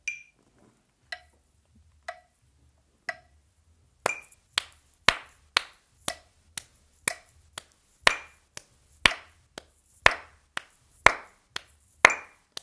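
Sharp metronome clicks tick at a steady beat, alone at first; then hands clap along with them, loud and close, each clap landing on or near the click in an even rhythm.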